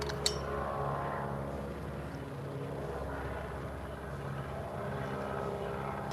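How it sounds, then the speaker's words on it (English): An antique warbird propeller plane flies over near an airport museum, a steady droning engine rumble holding through the whole passage, fairly loud and alone without talk. "I'm just going to pause that while that thing is flying over, because I can't talk while that's making such noise."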